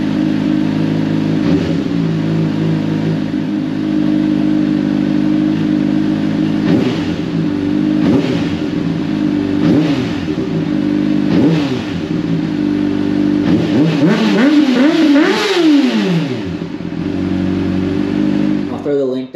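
A 2024 Honda CBR600RR motorcycle fitted with a Yoshimura RS-5 exhaust idles loud and close, then revs up several times in rising and falling sweeps, with people talking over the engine.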